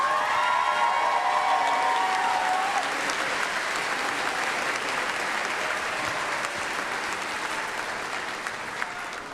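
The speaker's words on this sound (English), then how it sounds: "I ask you to join me in offering the faculty and staff of North Idaho College assembled here today a round of applause" Graduates at a college commencement applaud faculty and staff in a large hall, a broad sustained roar of clapping that slowly tapers off toward the end.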